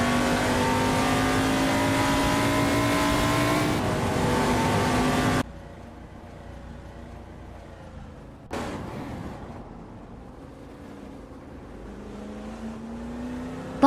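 A 1972 Ford Torino race car in a racing video game roars with a loud, steady engine drone that cuts out abruptly, then returns quieter and climbs in pitch as it revs again. No one speaks.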